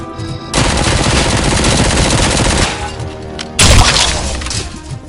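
Gunfire from the Robocop: Rogue City video game, a loud sustained burst of rapid shots with shattering debris, easing briefly before another sharp crashing volley near the end.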